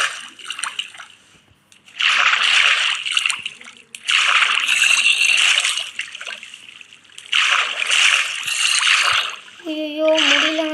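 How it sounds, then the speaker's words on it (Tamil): Water splashing loudly in long bursts as a Minecraft character dives in and swims, with breaks between bursts and a short tonal game sound at the end. "ஏன்டா தண்ணிக்குள்ளே முங்கிடலான்னு பார்த்தா சூப்பராக இருக்குங்க"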